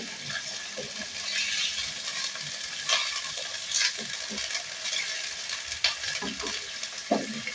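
Oil heating in a cooking pot, a continuous bright sizzle with soft bubbling and occasional small pops and clinks, close and steady throughout.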